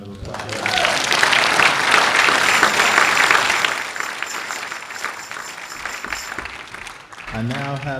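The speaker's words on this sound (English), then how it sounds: "we should give them another round of applause" At a Martin Luther King Jr. celebration in Davis, a crowd applauds with loud, sustained clapping that fades out, followed by a voice beginning to speak.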